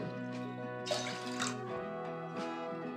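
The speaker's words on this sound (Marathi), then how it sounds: "सव्वा वाटी पाणी टाकते मी" Water poured into a heavy-bottomed pot on a stove, a steady faint splashing pour with a sustained ringing tone throughout.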